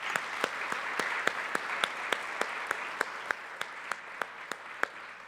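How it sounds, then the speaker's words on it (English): Steady applause from a symposium audience, honoring a university geography and environmental engineering department, with a few sharper individual claps standing out at a regular beat over the dense, even clapping. "A round of applause for the department"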